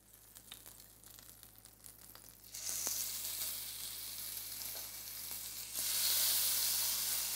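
Prawns sizzle in a hot oiled pan while being stir-fried, a soft crackle that jumps to a loud, steady hiss as the rest of the prawns go in, then swells again near the end.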